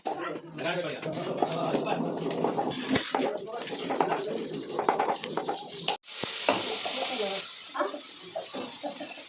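Okra curry (bendekai palya) is stirred in a pan in a village kitchen, with scraping metal utensils, clinks and a frying sizzle, while people talk throughout.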